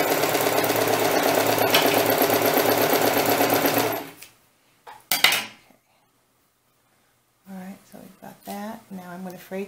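Sewing machine stitching a doll scarf of fabric, a fast steady whirring chatter for about four seconds, then a brief clack and silence before a person starts speaking.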